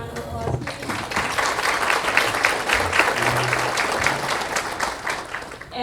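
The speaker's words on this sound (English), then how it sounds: "Can we give them a round of applause, please?" An audience at a State of the City event gives a steady round of applause, a dense, loud clapping that holds throughout with a voice briefly heard over it.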